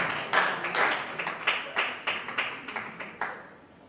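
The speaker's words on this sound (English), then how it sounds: "Ladies and gentlemen, round of applause for that" A small audience at an innovation and entrepreneurship conference gives a short round of applause, with sparse, distinct claps in an uneven rhythm that tail off after a few seconds.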